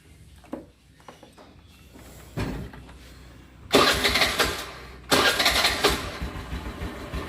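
A scooter's self-start ignition fires up with a couple of clicks, then two loud starter-and-engine bursts that catch into an uneven, throbbing mid-pitched idle, close by.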